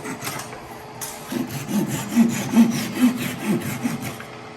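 A handsaw or trimming tool cuts off the tops of wooden dowels with rhythmic back-and-forth rasping strokes, about eight close, regular pulses heard alone.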